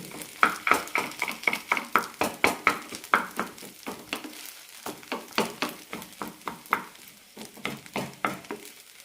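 A spoon stirs rice upma in a pan, making a steady run of rhythmic scraping strokes over soft sizzling, close and clear, with no voices.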